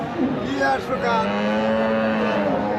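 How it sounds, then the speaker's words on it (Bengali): A cow lows in a long, drawn-out moo at a busy rural cattle market in Talgachi, close and loud over a constant crowd murmur and voices. "এই পাশে কিছু গাভী আছে"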